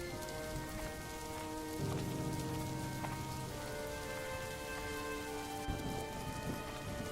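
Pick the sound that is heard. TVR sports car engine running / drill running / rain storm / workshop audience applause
rain storm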